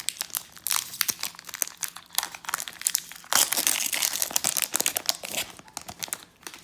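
Pokémon Sword and Shield booster pack foil wrapper being torn open and crumpled, with close, loud crinkling and tearing bursts throughout and a denser rustle midway.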